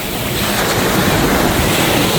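Sea waves breaking on Tynemouth Long Sands beach in North East England, a steady, loud wash of surf with heavy wind buffeting the microphone throughout, no voices.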